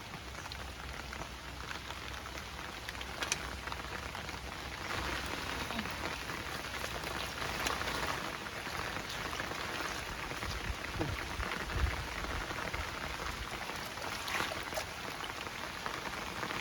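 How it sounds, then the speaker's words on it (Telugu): Steady rain falls and patters on surfaces outdoors during a rural Telugu cooking session, a continuous broadband wash with scattered louder drops and no talk. "వర్షం తగ్గిందన్న టైంలో మళ్ళీ వర్షం స్టార్ట్ అయిపోయింది."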